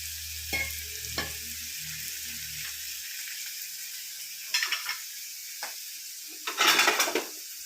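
Grated coconut roasting and being stirred in a pan for a tamarind prawn curry, with soft sizzling, a few spoon scrapes and knocks against the pan, and a low hum that stops early.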